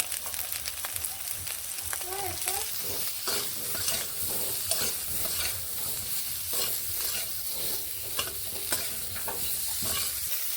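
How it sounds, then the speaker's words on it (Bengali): Eggplant pieces stir-fried in a pan with a little salt and turmeric, giving a continuous bright sizzle under frequent scraping strokes of a spatula, close and fairly quiet. "বেগুনগুলোকে এইভাবে নেড়ে আমি ভেজে নিচ্ছি সামান্য একটুখানি নুন ও হলুদ দিয়ে"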